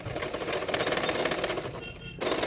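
Sewing machine running fast and close as it stitches a folded blouse sleeve, its rapid needle chatter steady for about two seconds, then a brief pause before it starts again.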